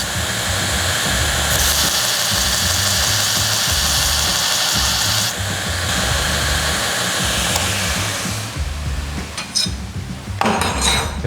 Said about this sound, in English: Now I'm gonna go over to the belt sander and just kind of bring down the rough edges.